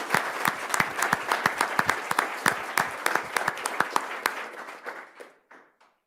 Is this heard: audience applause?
yes